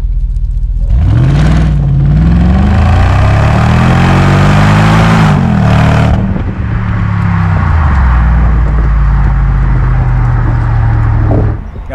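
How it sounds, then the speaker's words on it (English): Mercedes-Benz SL55 AMG V8 revving and settling, a loud, deep exhaust note that rises and falls in several sweeps before dropping to a steady burbling idle, heard close with no talking. "It has a fantastic V8 sound and gives a real enjoyment of driving when you're behind the wheel."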